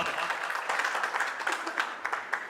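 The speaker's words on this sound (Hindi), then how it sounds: "एक बार जोरदार तालियां" Listeners at a Hindi comic poetry gathering clap together in a brisk burst of applause, with individual sharp claps standing out from the steady crowd patter.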